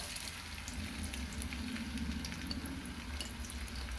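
Sliced onion fries in hot oil in a pan for a bottle gourd and split chickpea dish, giving a steady, soft sizzle and crackle that runs evenly throughout with no voices.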